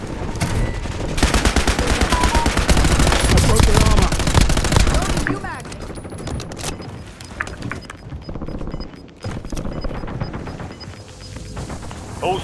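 Sustained automatic gunfire from a favourite gun in a battle royale video game, a loud dense burst over the first five seconds followed by scattered quieter shots and game effects.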